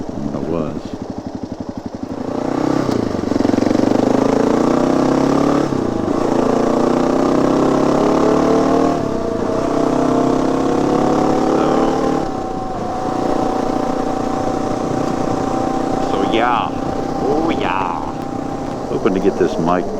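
A 2018 Kawasaki KLR 650 motorcycle engine drones steadily and loud up close, with shifting tones as it revs and settles over about twenty seconds, wind noise mixed in.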